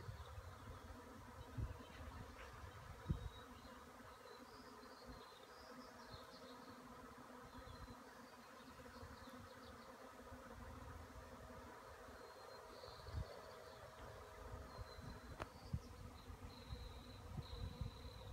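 A swarm of bees buzzing around a tree outdoors, a steady faint insect drone with occasional louder passes, no talk.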